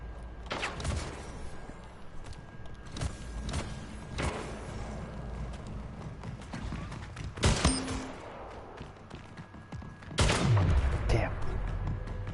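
Gunfire from the video game Splitgate: scattered sharp shots and bursts with a couple of louder impacts, heard over a busy game soundscape with low background talk.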